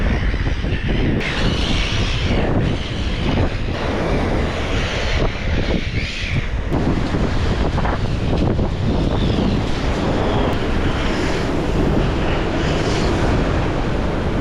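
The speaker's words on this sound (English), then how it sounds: "I apologize so much for the wind" Strong wind buffets the microphone at a beach sandbar near Perth, with ocean surf roaring underneath, loud and constant for the whole stretch and no voices.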